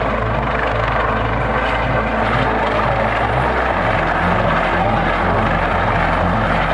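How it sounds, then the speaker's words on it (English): Steady, heavy rotor thumping of a Coast Guard helicopter, loud and continuous with a deep engine drone, close by and holding position throughout over the ocean near a moving cruise ship. "Coast Guard helicopter rescue in the middle of the ocean from Carnival Sensation ship"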